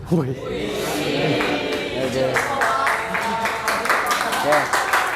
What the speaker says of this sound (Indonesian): tepuk tangan untuk kalian semua yang sudah mengerjakannya